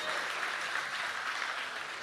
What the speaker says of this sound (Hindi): जोरदार तालियों से इस्तकबाल कर रहे हैं।